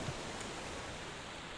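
Rain in the video game EverQuest falls as a steady, even hiss of broadband noise, soft and constant without breaks, with no voices over it.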